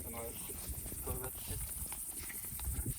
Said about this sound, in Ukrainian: Знаєш, яке копитає